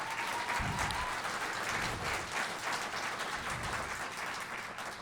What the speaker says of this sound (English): So can we please give a round of applause for Bessie Smith?